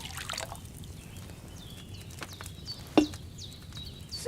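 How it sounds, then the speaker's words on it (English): Wine poured into a cauldron in the video game Kingdom Come: Deliverance II gives a faint, quiet trickle with a few soft drips, plus one brief sharper splash near the end. "First, you have to pour the right base into the cauldron."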